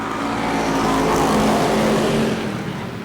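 Race cars roaring hard on the green flag at Bakersfield, a dense loud pack of engines swelling as the field accelerates past, then easing slightly, with no talk over it.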